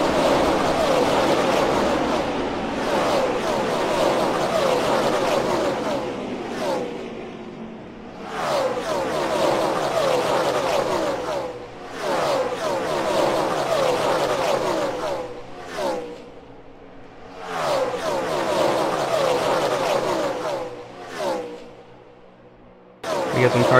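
Race cars roar around the Florida International Superspeedway during a Piston Cup race, engines droning loudly and continuously with several surging passes and brief dips, under an excited announcer's commentary.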